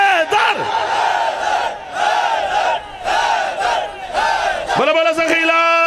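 A large crowd with raised hands chants Haidar together at a religious gathering in Okara, loud sustained unison shouts rising and falling in repeated waves, close and dense, with a final higher cry at the end.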